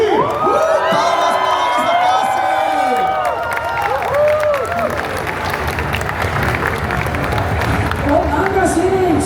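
A loud crowd at a CCXP 2024 convention tribute to Saint Seiya cheers, whoops and applauds for a singer, with excited high shouts over dense, steady clapping throughout.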